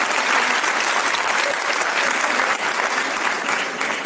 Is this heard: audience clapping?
yes